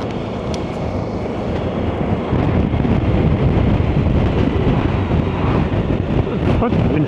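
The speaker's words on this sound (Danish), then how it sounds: "Det blæser i hvert fald helt fuldstændig vildt." Strong wind on an outing to Nibe roars and buffets the microphone in a dense, steady rush that grows louder partway through and stays heavy to the end.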